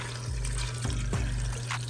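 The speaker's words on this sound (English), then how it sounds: "now we're going to add some water, just enough to cover the oxtail" Water pours steadily into a pot of browned oxtail for a Jamaican oxtail stew, a continuous close splashing fill with a low rumbling undertone and no talk over it.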